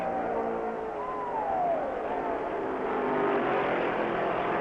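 1965 NASCAR Grand National stock cars roar past on the track at the American 500, a sustained engine drone with a clear pitch sweep as one car passes, and a narrator speaks over it.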